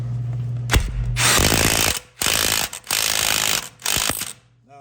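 Loud bursts of a power tool working on a front wheel bearing bolt on a 2007 to 2014 Ford Edge, several rattling impact-style runs with short pauses between, close up and no talk.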